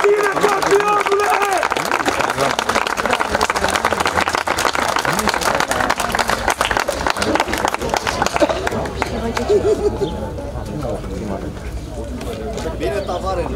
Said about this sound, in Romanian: Haideți să-l primim cu aplauze pe